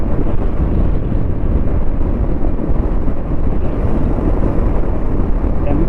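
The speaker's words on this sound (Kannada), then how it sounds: "ಸಖತ್ ವಿಂಡ್ ಬ್ಲಾಸ್ಟ್ ಇದೆ ರೀ." Strong seaside wind buffeting the microphone near a temple on the coast between Rameshwaram and Dhanushkodi, a loud, continuous low roar with no letup throughout.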